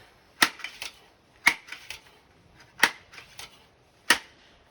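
Benjamin 397S pump air rifle fired offhand at rams 50 yards away, four sharp snapping shots spaced about a second apart, each trailed by a few fainter echoes or metallic pings, with no voices between them.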